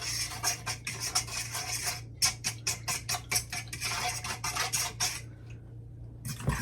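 Bread ingredients mixed in a bowl, with rhythmic scraping and stirring strokes in quick repeated bursts, a short pause near the end, fairly close and without talk.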